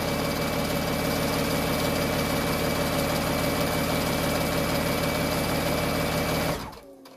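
A sewing machine stitches the seam of a scrub hat in a steady, continuous whirring run at close range. It stops abruptly near the end, leaving quiet room tone, with no talking.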